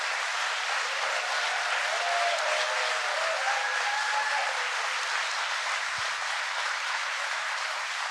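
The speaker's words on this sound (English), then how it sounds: "So if you would all give a round of applause to all of the people who work at the site." Steady, loud applause from a crowd at the IBM Poughkeepsie site, honoring the workers there, a sustained even wash of clapping that holds for several seconds without pause.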